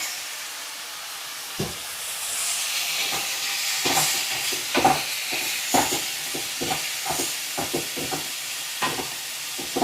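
Knol khol (kohlrabi) fries on a medium flame in a pan, giving a steady close hiss broken by repeated sharp spatula scrapes and taps, with no voices.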